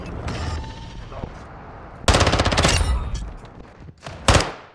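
Heavy bursts of in-game gunfire in a Modern Warfare 2 invasion firefight, with a sustained loud volley in the middle and a sharp final burst near the end over a background battle din.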